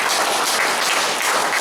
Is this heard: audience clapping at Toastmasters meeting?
yes